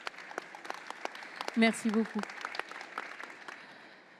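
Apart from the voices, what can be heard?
audience applause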